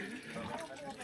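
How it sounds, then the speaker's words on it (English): Water runs through an ancient Inca stone channel in the Machu Picchu Sacred Valley, a soft continuous trickle and splash heard faintly for a brief moment. "That's the evidence of the water system still working today."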